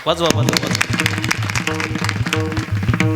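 Audience clapping at a Marathi kirtan, a dense burst of applause mixed with a loud voice and harmonium-like music playing.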